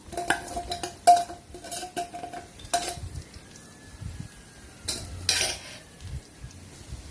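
A spatula scrapes and clinks against a pan as garlic is stir-fried for a Thai pork rad na, giving sharp, irregular metallic taps over a faint background with only slight sizzle.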